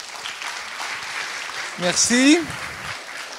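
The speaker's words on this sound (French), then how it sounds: "On peut l'applaudir déjà." Audience at a lecture at a French engineering school applauding, a soft continuous clapping under a spoken word of thanks from a man.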